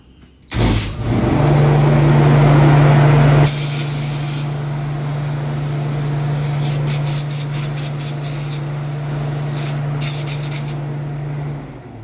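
A glaze sprayer switches on with a loud, steady hiss of spraying glaze and an underlying motor hum, running continuously for most of the stretch before easing slightly in level, with no talking.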